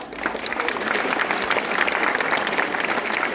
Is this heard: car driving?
no